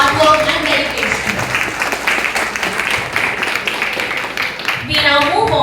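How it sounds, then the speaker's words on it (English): An audience at a moot court competition awards ceremony claps for the winners, a dense, sustained round of applause that runs steadily throughout and swells again near the end. "Let us give them another round of applause for their hard work and dedication."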